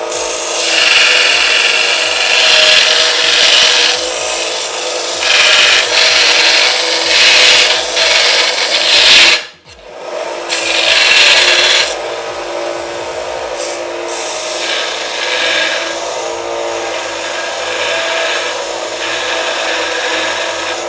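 A Harbor Freight 1x30 belt sander grinds mild steel with a loud, continuous rasping whir. The grinding pauses briefly near the middle, then resumes and carries on steadily, with no talking.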